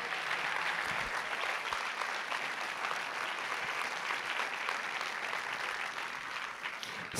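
A film festival opening ceremony crowd gives sustained, even applause, a dense wash of clapping heard from some distance at moderate level, continuing unbroken for the whole stretch.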